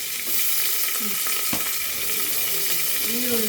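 Onion sizzling and frying in a tempering of mustard seeds and curry leaves, a steady bright hiss with a few soft stirring scrapes, close and continuous with no talk.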